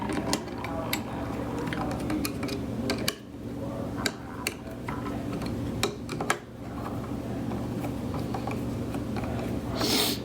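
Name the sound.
screwing down the screen on the lid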